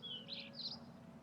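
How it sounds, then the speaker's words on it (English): A few short meadow birdsong chirps ring out faintly at a distance over a soft, steady background hum. "The meadow birds have all returned, keeping very busy with the feeding of their young."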